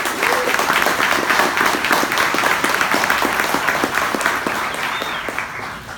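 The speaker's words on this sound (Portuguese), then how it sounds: "Palmas aí pra galera aqui." Loud, sustained applause from a crowd at a motivational lecture, dense rhythmic clapping filling the room steadily throughout and tapering slightly at the end.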